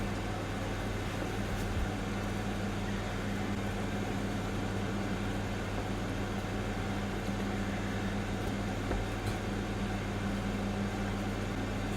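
A microwave oven cooking an egg hums steadily and evenly throughout, a constant mechanical drone with no voices.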